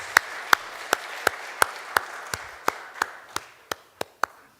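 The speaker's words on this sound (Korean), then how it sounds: "우리 박수로 박수 한번 감사합니다." A church congregation claps along in a slow, steady rhythm of sharp, evenly spaced claps that gradually fade, heard fairly quietly and without speech.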